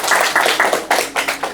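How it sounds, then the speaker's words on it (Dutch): A few people clap at a school talk-show taping, a sparse run of distinct, uneven handclaps close by, with no voices over them. "Geef er een groot applaus."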